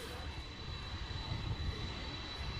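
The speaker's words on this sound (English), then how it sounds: "a Queen coming up the cargo taxiway" Boeing 747 jet taxiing up the cargo taxiway in Hawaii, a steady low engine rumble with a constant high whine, moderately distant and uninterrupted.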